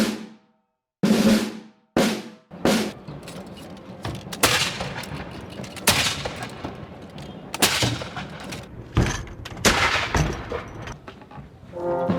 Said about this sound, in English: That was the live fire demonstration.